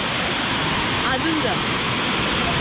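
Loud rushing water from a stream where people are fishing, a steady broadband roar filling the whole clip with a voice speaking briefly over it.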